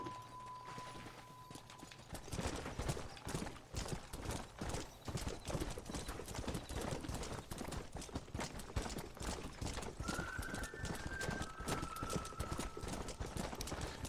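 A horse's hooves clip-clop in a steady, rapid rhythm through a Red Dead Redemption game scene, close and continuous for most of the stretch, with a soft tone near the start and brief game tones later.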